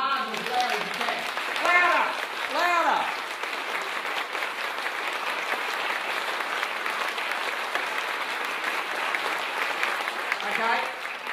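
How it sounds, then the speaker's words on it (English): An audience at a technology talk claps loudly on request, sustained dense applause with cheers and whoops rising in bursts. A speaker's voice is heard over the clapping. "That spontaneous round of applause you just gave me"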